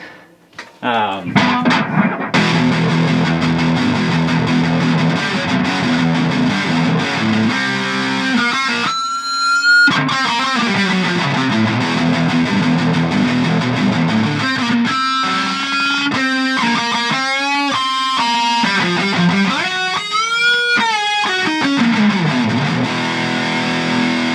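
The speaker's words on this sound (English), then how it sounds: "that's probably the nicest high distortion that I've got out of every amp in here" Heavily distorted electric guitar through a Line 6 Spider IV 30 amp on its high-gain Insane channel plays loud, saturated riffs with sustained, bending notes and brief pauses between phrases.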